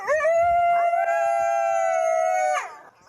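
Two coyotes on a hilltop overlooking San Francisco howl in a long, sustained, wavering tone lasting a few seconds, close and loud, before tapering off near the end.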